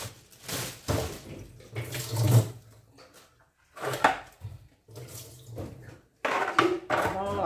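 Tap water runs over a cashew fruit in a kitchen sink in short splashing bursts, broken by pauses, while someone talks throughout.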